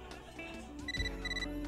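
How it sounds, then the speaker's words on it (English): A phone alert for an incoming message in the video game Catherine: Full Body plays as a quiet, brief run of bright electronic ringing tones. "Oh, the phone. Oh, message."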